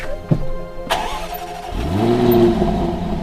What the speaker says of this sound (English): 5 litre, supercharged V8, no edits